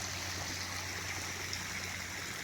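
Water trickles and flows steadily at a resort, a soft, even, continuous wash heard faintly with no voices.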